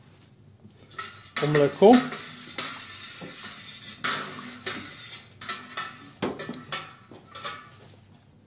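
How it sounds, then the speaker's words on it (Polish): A spoon stirs milk with added bacterial culture in a pot during mozzarella making, giving repeated scraping clinks against the metal in a steady rhythm, with a few brief spoken words. "I mieszamy, żeby te bakterie się rozeszły nam tutaj"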